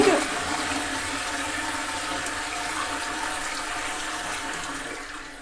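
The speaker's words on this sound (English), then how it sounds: "is that not the most intense flush you've ever seen?" A powerful toilet flush in Norway gives a loud, close rush of water that starts abruptly and roars steadily, fading slightly as it drains.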